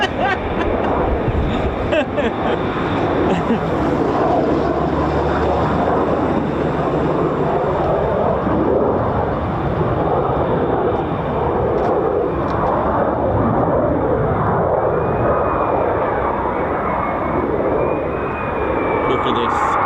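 Loud, continuous roar of a USAF F-15 or F-35 fighter jet taking off at RAF Lakenheath, a broad sustained rumble filling the whole stretch with a faint rising whine late on, and voices heard underneath.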